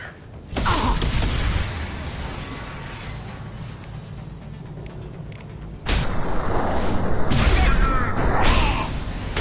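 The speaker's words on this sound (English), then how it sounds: "Explosions again." Loud booming explosions and crashing blasts in Mass Effect 2 Legendary Edition roar in two heavy bursts, with rumbling debris and a steady din between them.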